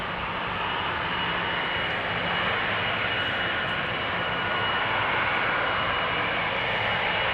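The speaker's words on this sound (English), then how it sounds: "This is KLM flight 677 to Calgary. 777-200 earned PHBQB" A KLM Boeing 777-200 airliner at Amsterdam Schiphol gives off a steady, broad jet roar that holds level and fairly loud for the whole stretch, with no voices over it.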